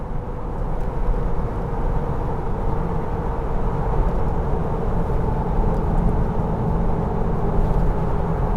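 A Jeep TJ on 32-inch tires with 3.73 gears cruises on cruise control over fairly level ground, giving a steady, loud engine drone and road rumble from inside the cabin that stays even throughout, with no talk.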